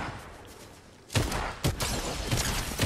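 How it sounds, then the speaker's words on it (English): Gunfire in the video game Fortnite: after a quiet second, a burst of sharp shots cracks out at an uneven pace, several loud reports spaced a few tenths of a second apart. "Oh god, they're shooting at me."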